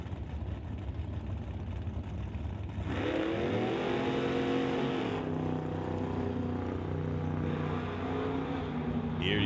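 At an NHRA Summit ET drag race, a 66 Mustang with a 585 cubic inch Ford engine and a 69 Corvette launch, engines screaming up in loud rising revs and holding a roaring, wavering pitch down the track.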